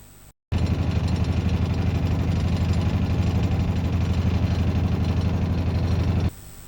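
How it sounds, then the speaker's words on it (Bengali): A boat trawler's engine chugs loudly and steadily on the Sugandha river, a rapid rhythmic thumping that starts abruptly after a brief gap and stops near the end. "অপরূপ সুন্দর এই সুগন্ধা নদীর বুক চিরে আমাদের ট্রলারটি আমাদের এবং আমাদের বাবাকে নিয়ে ছুটে চলছে আমাদের গন্তব্যের দিকে।"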